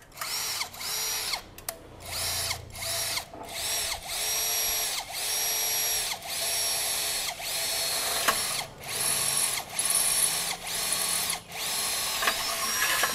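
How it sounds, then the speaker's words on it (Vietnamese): A power drill bores into thin box-section steel in repeated bursts, each whine running a second or so with short pauses between, close and steady with no talk. "đây sẽ khoan tiếp cho mọi người khoan sắt nhé"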